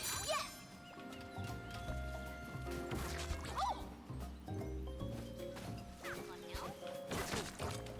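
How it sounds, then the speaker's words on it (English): In the Donkey Kong Bananza video game, a barrel cannon blasts through a stained glass window with a crashing smash, set against busy, continuous game music and effects. "Why did they design the barrel cannon so that you would just destroy their stained glass window?"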